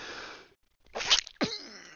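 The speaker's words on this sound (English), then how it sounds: "after I called it bullshit, I sneezed" A single sharp sneeze, a quick intake of breath and then a loud burst, sounds close to the mic and is followed by a short exhale.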